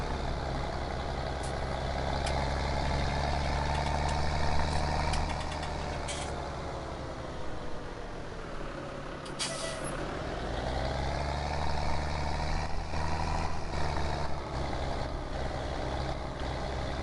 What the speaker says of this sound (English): the Fiat 13090 is a lovely tractor